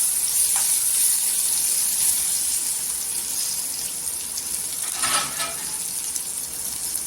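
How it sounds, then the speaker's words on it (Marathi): Constant loud sizzling hiss of green chillies frying in oil, with a brief stirring scrape partway through, no voices. "या मिरच्यामध्ये पाणी नाही टाकायचं आपण तेलावरच परतून घ्यायचं"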